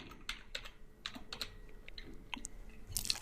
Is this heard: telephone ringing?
no